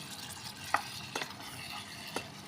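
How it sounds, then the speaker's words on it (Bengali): Meat sizzles softly in a mini cooker with egg, onion, tomato and green chili for pasta. A utensil stirs through it with three distinct scraping clicks over the steady frying. "পাস্তা রান্নার জন্য এখানে মাংসগুলো ভাজা নিছি আর সাথে দিছি ডিম, তারপরে পেঁয়াজ, টমাটোর, কাঁচামরিচ"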